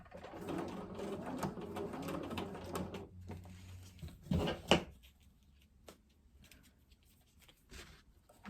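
A sewing machine stitches a short tack in place for free motion quilting, a quick burst of close mechanical whirring followed by a couple of sharp clicks, then near silence.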